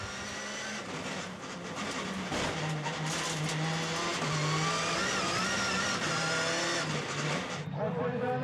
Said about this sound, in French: Au départ de la catégorie reine, sans doute de la tension pour Jérôme Grosséjanin.